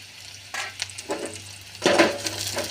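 Ginger frying in hot oil in a pan gives off a soft, steady sizzle, with a few light clinks and a louder crackling surge toward the end.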